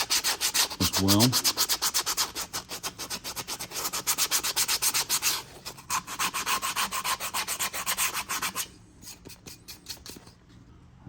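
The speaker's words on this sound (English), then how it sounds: "I got a piece of 80 grit used sandpaper" Hand sanding a wooden spoon rest with used 80 grit sandpaper: rapid rhythmic rasping strokes, loud and close, a short pause midway, then stopping near the end; a brief voice is heard.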